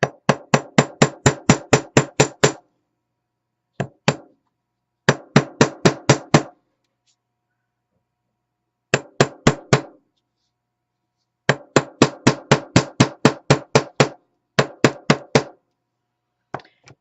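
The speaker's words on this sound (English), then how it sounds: "then I'm going to harden it with a chasing hammer" Sharp metallic chasing hammer taps harden metal in quick bursts of rapid, evenly spaced strikes, separated by pauses, close and clear with no talking.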